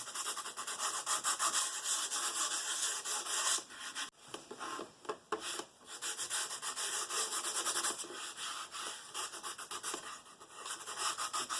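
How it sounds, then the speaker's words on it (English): Worn, fine-grit sandpaper rubbing over dried clear gesso on a mixed-media collage, a continuous close scratchy scrubbing that pauses briefly a couple of times. "just sand down the grit that you get from that clear gesso"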